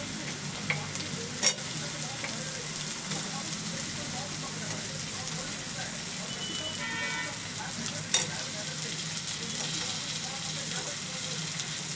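Boiled potatoes fry with spices in a pan, giving a continuous close sizzle with occasional sharp clinks and scrapes of stirring, and no talking.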